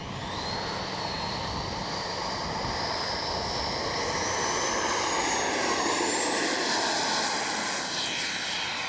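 A 64mm electric ducted-fan Arrows RC F-15 model jet flies in windy conditions, its high-pitched whine holding steady and loud as it rises and shifts in pitch over wind rush, with no talk.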